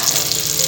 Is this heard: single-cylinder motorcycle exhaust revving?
no